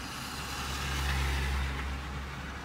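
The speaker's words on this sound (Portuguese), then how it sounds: "E os carros pequenos estão seguindo ali." Small cars pass on a snowy, icy A2 motorway before Madrid in Spain, a steady road hum and engine rumble swelling as a vehicle goes by close, then easing off.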